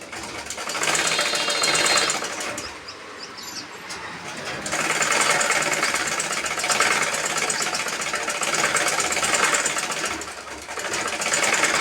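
A sewing machine runs steadily while stitching a blouse, its dense mechanical whir continuing in long loud bursts with a brief slowdown partway through, no voices.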